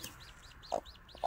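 A Wyandotte hen that has been secretly brooding clucks softly nearby, giving a few short, quiet clucks over faint chick-like peeps in a garden setting.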